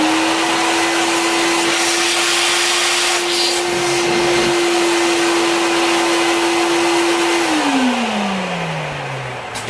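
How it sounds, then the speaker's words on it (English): A vacuum runs during brazing work on a dam part, a loud steady whine held for several seconds before its pitch slides downward as the motor spins down, with no talking. "Here again, vacuum."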